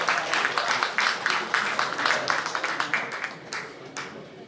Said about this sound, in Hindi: भरपूर तालियों में इस्तकबाल कीजिए जनाब आतिफ तौकीर का